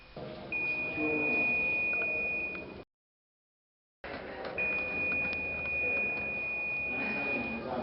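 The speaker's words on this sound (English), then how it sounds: "With that buzzer, it means there's continuity." A multimeter's continuity-test buzzer sounds a steady electronic tone twice, each lasting a few seconds, separated by a short silence, over faint background noise.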